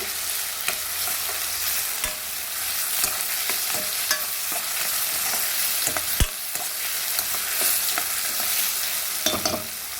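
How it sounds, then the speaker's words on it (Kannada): Onion and tomato frying in oil for an egg curry, giving a steady close-up sizzle with scattered scrapes and clinks as the pan is stirred, carrying on for several seconds without voices. "ಈರುಳ್ಳಿ ಮತ್ತು ಟೊಮೊಟೊ ಆಯಿಲಲ್ಲೇ ಚೆನ್ನಾಗಿ ಫ್ರೈ ಆಗಬೇಕು"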